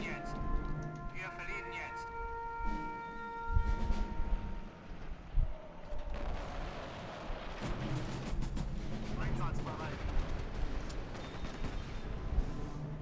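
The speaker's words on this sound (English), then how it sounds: "Oh, we're getting bombed somehow." Bombing explosions in the 2004 WWII strategy game Axis & Allies at the Battle of El Alamein: a series of distant booms and crackling blasts come in clusters, mixed with game effects and a voice talking over them.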